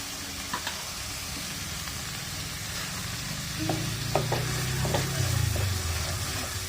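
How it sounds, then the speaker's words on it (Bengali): Coconut paste sizzles with spices in a hot pan while being stirred continuously, a steady close frying hiss with scraping and spoon knocks building slightly louder toward the end. "নারকেল বাটা দিয়ে ভালো করে ভুনে নিতে হবে"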